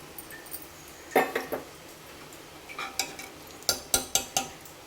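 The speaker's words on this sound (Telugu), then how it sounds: "ఇప్పుడు ఇందులో నేనైతే ఆనియన్స్ అయితే వేసుకుంటున్నాను" Onions tipped into a pot of simmering toor dal charu, with scattered metallic clinks of a spoon against the pot that build into a quick run of sharper knocks near the end, close and fairly quiet, with no talking.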